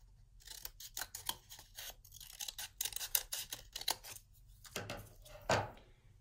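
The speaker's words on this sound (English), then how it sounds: "Our last step is to cut out a scarf for him. So I'm just going to cut kind of a rounded shape here." Scissors cutting out a rounded scarf shape, a close series of quick crisp snips in uneven clusters, with a brief pause before a final few cuts.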